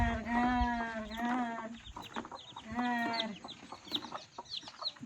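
Hens cluck in short repeated bursts close by, with faint peeping of newly hatched chicks and scratching between calls, a noisy farmyard background.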